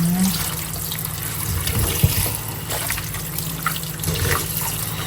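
Salted, freshly grated santol being rinsed in a basin of water, with steady close splashing and sloshing that continues throughout and swells slightly in a few places.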